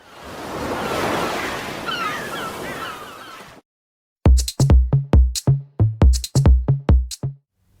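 Ocean waves washing on a beach, a broad rushing surf for about three and a half seconds, then cut off and followed by a series of sharp, loud electronic tones.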